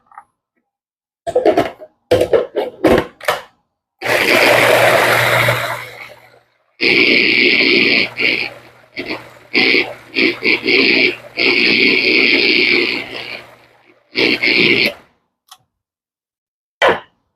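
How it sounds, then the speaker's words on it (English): A kitchen blender purees ginger, onion, garlic and jalapeno for a lamb vindaloo, its motor whirring in several separate bursts of a few seconds each, loud and close, with short clattering knocks between runs. "Just going to mix some down. Ginger, onion, garlic, and a jalapeno for a bit of heat."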